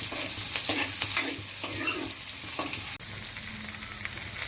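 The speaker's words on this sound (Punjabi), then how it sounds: "ਪਿਆਜ਼ ਨੂੰ ਤਾਂ ਥੋੜਾ ਜਿਹਾ ਭੁੰਨ ਲੈਨੇ" Okra and onion frying in a pan, a close, steady sizzle with stirring scrapes and light clatter, with no talk.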